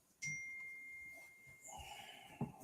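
A single soft phone notification ding rings out once and lingers briefly, faint and alone against quiet room noise.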